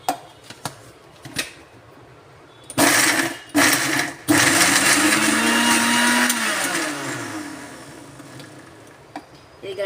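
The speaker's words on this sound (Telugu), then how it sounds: "గ్రైండ్ చేసుకుందామండి" A mixer grinder works roasted green chillies, garlic, cumin, tamarind, curry leaves and salt. A few clicks and two short pulses come first, then a loud sustained whirring grind whose pitch sags and recovers before it stops.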